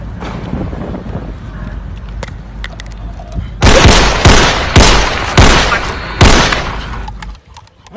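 Gunfire cracks out as a loud, close series of about six sharp shots at uneven intervals, following a stretch of quieter background noise.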